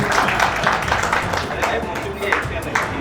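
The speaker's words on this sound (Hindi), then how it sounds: "जोरदार तालियां हो जाए।" Enthusiastic applause at a Holi celebration gathering, many hands clapping loudly and continuously in a lively crowd.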